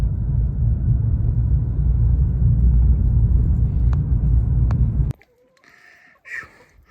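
Interior of a car driving on a snowy road, with a loud steady low rumble that cuts off abruptly near the end, leaving quiet with faint noises.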